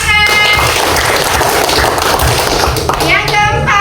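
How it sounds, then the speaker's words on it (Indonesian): Classroom students clap together in a dense, continuous burst of applause, loud and close, lasting a few seconds, with voices audible over it. "Baik, tepuk tangan"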